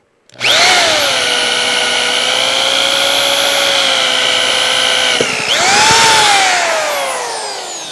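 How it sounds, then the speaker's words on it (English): An electric corded drill bores through a telescope motor bracket, a loud, close, sustained whine that holds steady, cuts off abruptly, then spins up again and slowly winds down. "I would recommend using an electric drill on this"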